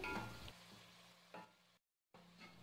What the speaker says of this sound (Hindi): अब इसको प्याज को जो है वो गोल्डन ब्राउन होने तक इसको फ्राई करेंगे मीडियम फ्लेम पे।